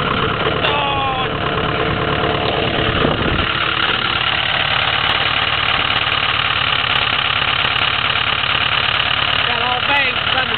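A 2007 Ford Powerstroke diesel engine idles after a cold start, a loud, steady, close clatter that holds for the whole stretch, with a brief knock near the start.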